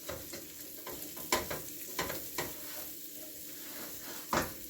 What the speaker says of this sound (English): I'm going to saute all the bell pepper and the onion in here for a little bit